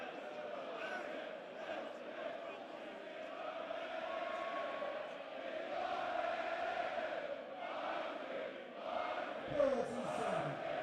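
A darts crowd at a Steel City darts event roars and cheers continuously, a dense, loud wash of many voices that swells near the end, with a commentator talking underneath.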